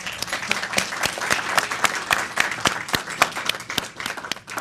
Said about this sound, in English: I think you guys deserve the applause